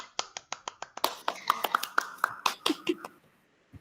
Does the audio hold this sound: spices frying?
no